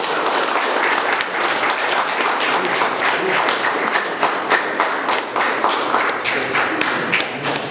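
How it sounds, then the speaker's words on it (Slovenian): Sustained, dense applause from an audience at a Slovenian award event, steady and loud throughout with many overlapping hand claps and no speech. "Še en aplavz, prosim."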